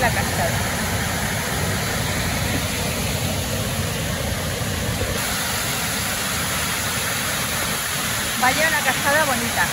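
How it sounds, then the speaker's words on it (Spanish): A waterfall in the Jerte Valley, Spain, roaring as a loud, steady broadband rush that fills the whole scene from close by, with a voice faintly audible beneath it. "Vaya, una cascada bonita."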